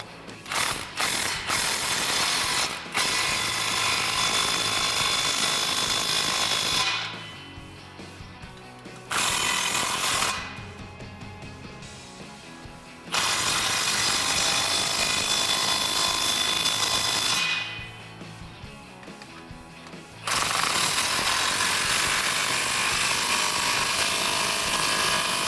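A ratchet with a 15 mm socket tightening exhaust clamps on a 2011-2014 Ford F150 5.0L, rapid close clicking in long bursts broken by short quiet pauses, no talking.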